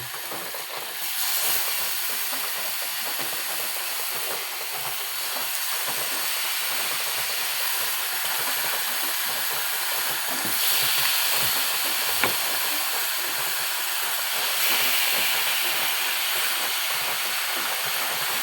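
Steady, broadband sizzling hiss lasts throughout as marinated chicken for biryani cooks in a hot pot, loud and close with only slight swells and a faint clink near the middle, no voices.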